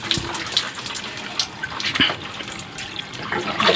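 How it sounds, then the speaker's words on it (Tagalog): Water running steadily from a tap while beef is rinsed, a continuous splashing flow with a few brief knocks and clatters along the way. "Tuloy-tuloy yung buhos."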